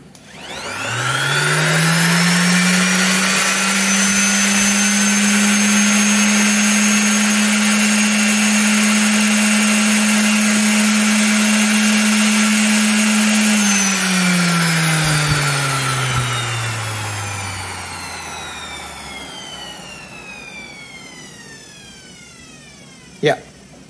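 A Yasuka YSD125B random orbital sander runs with a loud, steady electric motor whine that holds for about fourteen seconds, then slowly falls in pitch as the tool is switched off and spins down, ending with a brief knock.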